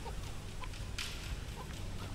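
Chickens in the video game Tomb Raider cluck softly in short, scattered calls over a steady background hum, fairly faint and close to the ground.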